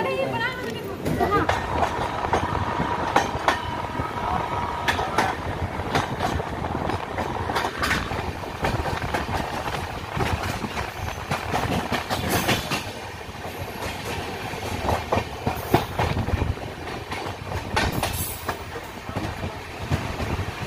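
Bhubaneswar to Howrah passenger train 12074 running steadily, with continuous rumbling rail and wheel noise and clickety-clack under a sustained loud roar, and voices murmuring faintly beneath.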